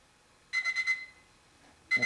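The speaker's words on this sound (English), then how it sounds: "I got my little digital timer because the timer on my unit doesn't work very well." Small digital kitchen-style timer going off during a heat transfer craft project: a quick run of four sharp electronic beeps, a pause, then another beep starting, close and clear in a quiet room.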